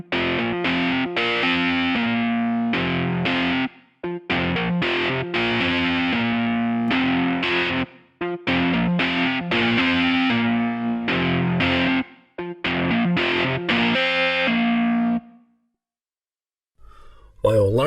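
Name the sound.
flanger audio effect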